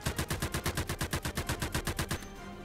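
Rapid automatic gunfire from a first-person video game, a steady rhythmic burst of about twenty evenly spaced shots over two seconds, then stopping abruptly with a faint mechanical tail.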